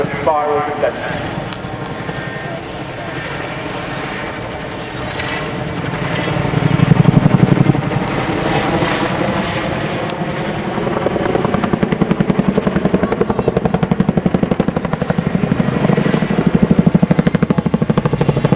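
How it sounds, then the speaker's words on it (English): A propeller aircraft at an air show noses down into a spiral descent, its engine droning loud and continuous with a rising, swelling pitch, while a commentator talks over it throughout. "We're going to get the nose down and do a spiral descent."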